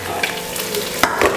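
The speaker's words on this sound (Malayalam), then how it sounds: "ഒന്ന് വഴറ്റി" Chopped garlic, ginger and green chillies sizzle steadily in hot oil in a pan, a close, continuous frying hiss with a few soft stirring scrapes.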